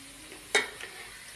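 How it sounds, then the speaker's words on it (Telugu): Chana dal (split chickpeas) being fried in a pan, a single sharp stir or clink near the pan over a soft, low sizzle, with a fainter tap just after. "ముందుగా శనగపప్పు వేయించుకోవాలి."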